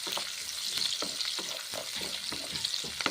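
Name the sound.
onions frying and being stirred in a pan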